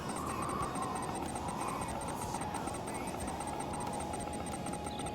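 A motorcycle unit's engine idles in the Tiberium Resistance strategy game, a steady, continuous mid-pitched rumble holding evenly throughout with a faint repeating high beep above it.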